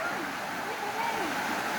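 The Tabing River rushes steadily near Caunayan Falls, a continuous broadband wash of flowing water filling the whole moment, with a voice faintly audible beneath it.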